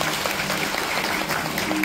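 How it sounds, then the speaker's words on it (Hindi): An audience claps loudly and steadily for the main host of a religious katha gathering, a dense even burst of applause throughout. "एक बार जोरदार तालियां इनके लिए।"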